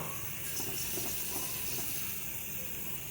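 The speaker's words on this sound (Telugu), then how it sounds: "ఇలా బాండీ పెట్టేసి ఫ్రై చేసుకుందాం." Mixed seeds fry in a kadai for a multi-seed sweet, producing a faint, steady hiss and crackle with no pauses.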